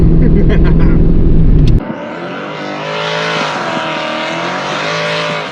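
A Ford Mustang race car in a drag race roars loud and close, its engine note sweeping and droning steadily after an abrupt cut from a louder burst.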